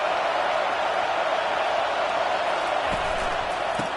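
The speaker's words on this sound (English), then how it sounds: "Decibels rising as the crowd gets behind this defense on third down." A stadium crowd roars steadily during a college football game as the defense lines up on third down, a dense, loud wash of voices that holds level throughout, with a couple of faint thumps near the end.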